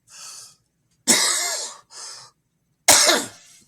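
A person with a chronic cough coughs several times in a row, harsh, close bursts separated by short pauses.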